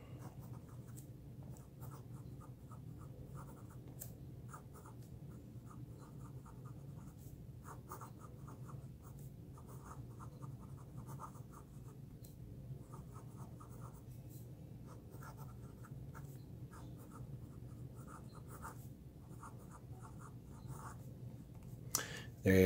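A vintage Mercedes fountain pen scratches across paper in a long writing sample, soft intermittent strokes close by with quiet pauses, no talking.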